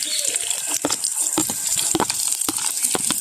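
Chopped shallots fry in coconut oil, a close crackling sizzle broken by sharp pops and stirring clatter in an irregular rhythm, heard with no talking.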